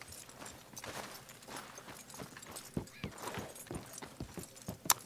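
Hooves clop in an uneven walking rhythm at moderate volume, with a faint snort or whinny mixed in among game sounds in Red Dead Redemption 2.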